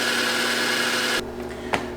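A power drill with a bit in a keyless chuck whirs steadily for about a second, then stops abruptly, leaving a quieter hum and one short sharp click.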